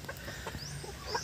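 Chickens cluck near young chicks about a month old on a small farm, giving short soft calls scattered through a brief stretch under steady background hiss, with no talk.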